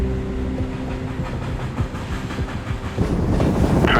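A moving train heard from a rider on its roof: steady rumble and clickety-clack of wheels under heavy buffeting wind noise, loud and continuous, growing rougher toward the end.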